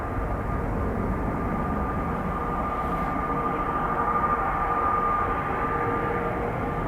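An Airbus A320ceo airliner with larger winglets rumbles steadily at Dublin Airport, a broad continuous roar with a faint whine held throughout, no talk.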